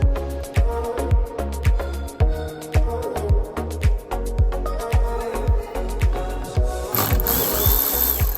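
A hand ratchet clicks in quick, regular bursts while loosening the 10mm nut on the negative battery terminal of a 2013-2016 Dodge Dart, close and clear over background music, ending in a brief hiss.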